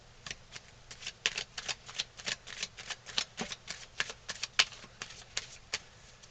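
Tarot cards are drawn and laid down in quick succession, giving a close, crisp series of papery snaps and slaps with no talk.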